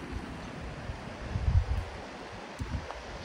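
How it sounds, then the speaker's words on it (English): Wind gusting across a mountain hiking trail, a steady low rumble of buffeting with a stronger surge in the middle, close to the microphone and without speech. "Ooh, it's getting windy."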